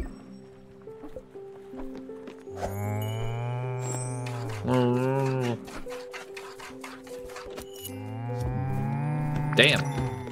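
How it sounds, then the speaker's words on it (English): A cow in the video game Spiritfarer gives several long, deep moos, loud and close, with game music and someone talking between the calls. "There's an actual cow here."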